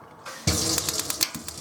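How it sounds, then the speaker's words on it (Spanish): A gas water heater fires as the hot water tap opens, a sudden burst of running water followed by a rapid series of sharp ticking sparks over the flow, close and fairly loud. "cuando yo abro el agua caliente, automáticamente chispea"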